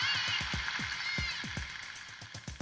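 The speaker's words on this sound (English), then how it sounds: "The crew listens as dolphins swarm in for lunch." Dolphins picked up on a Seawolf submarine's sonar in cold Atlantic waters: a rapid series of descending chirps and clicks over a steady crackling hiss of snapping shrimp.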